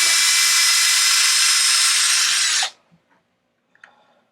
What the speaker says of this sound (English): So we're gonna remove this bolt and this bolt.